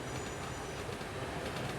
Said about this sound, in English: Hear the nice sounds of the wheels.